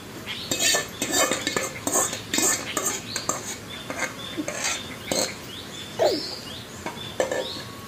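Mango pickle being mixed by hand in a metal vessel, with repeated scraping and clinking strokes in an irregular rhythm, close and fairly loud, accompanied by quiet background sounds.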